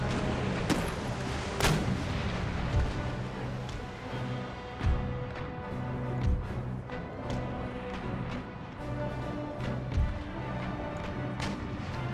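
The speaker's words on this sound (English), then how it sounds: "San Mateo, keep firing a round shot" Cannon round shot booming across a naval battle in Empire: Total War, Royal Navy ships under crossfire; repeated heavy broadside blasts ring out at irregular intervals over a constant rumble of battle, with several sharp loud reports standing out.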